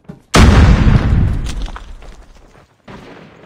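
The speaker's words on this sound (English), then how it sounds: "Grenade out! Grenade!" A grenade in the shooter game Call of Duty Mobile bursts in one loud close boom that rumbles and fades, followed by a shorter burst of gunfire-like noise.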